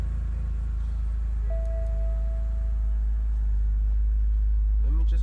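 A BMW car engine idles smoothly with a steady low rumble, a faint whine rising briefly in the middle, and soft voice-like sounds near the end.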